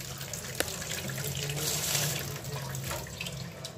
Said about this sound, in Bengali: দেখো ছানাটাকে আমি ভালো করে ধুয়ে নেব জল দিয়ে